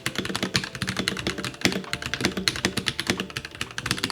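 Typing on a Royal Kludge RK84 Macchiato mechanical keyboard, a rapid, steady stream of close crisp key clacks with no talk.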